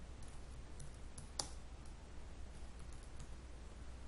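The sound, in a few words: typing a name on a computer keyboard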